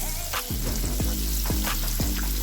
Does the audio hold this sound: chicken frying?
yes